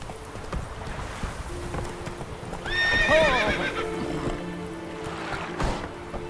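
A horse in The Witcher 3: Wild Hunt gives a loud, close neigh over its steady clip-clopping hooves, with water-like ambience in the background and no talk.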